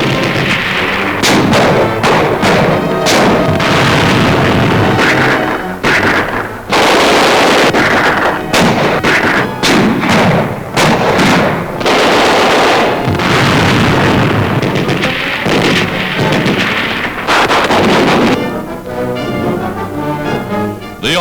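Sustained gunfire and explosive blasts in jungle combat at Buna in southeastern New Guinea, troops routing enemy from foxholes and pillboxes; dense, continuous bursts of shots and booms with no pauses, loud and close.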